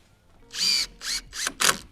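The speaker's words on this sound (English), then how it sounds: "grab the screws out of the bag, and I just put in one at either end to start with" A power drill drives screws into a wooden garden canopy frame. Four short, loud whirring bursts come close together, each rising then stopping abruptly, with near silence between them.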